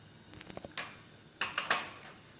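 A metal frying pan clinks and knocks as it is handled on the stove during home cooking, a few light, close taps and scrapes in quick succession.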